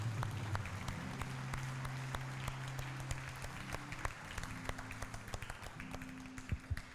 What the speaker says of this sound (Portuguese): Aplauda aquele que é digno.